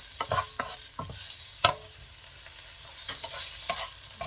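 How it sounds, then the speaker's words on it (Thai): Pork belly and Chinese sausage frying in a pan, giving a steady close sizzle broken by several sharp scrapes and clacks of a spatula stirring the pieces, with no talking. "เดี๋ยวจะรอให้น้ำมันเขาออกจากหมูสามชั้นกับปีเชียง"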